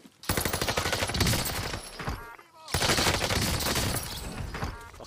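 Video game gunfire comes in two loud, sustained bursts of rapid shots separated by a short pause, close and dominant.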